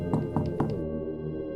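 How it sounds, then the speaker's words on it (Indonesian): Three soft knocks on a bedroom door, evenly spaced, with the low steady hum of an electric fan continuing afterward. "ada suara ketukan pelan di pintu kamar."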